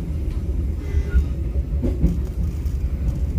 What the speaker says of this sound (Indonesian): Kereta api Serayu saat ini melintas langsung stasiun Cirahayu